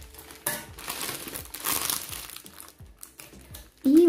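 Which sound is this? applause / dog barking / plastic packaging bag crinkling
plastic packaging bag crinkling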